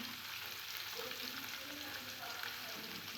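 Fish frying in a pan gives off a soft, steady sizzle that stays faint and constant throughout.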